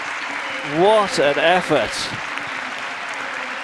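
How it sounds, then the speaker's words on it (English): A show jumping crowd applauds a rider as a steady wash of clapping, while a commentator speaks briefly over it. "Eric acknowledges the applause of the crowd"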